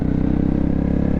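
A Honda Grom motorcycle fitted with an aftermarket exhaust idles close by with a steady, rapid, throbbing pulse, loud and even throughout the short moment with no talking.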